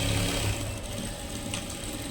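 A sewing machine runs steadily at close range, stitching the side fitting of a boat neck blouse as one continuous mechanical hum with a faint rattle.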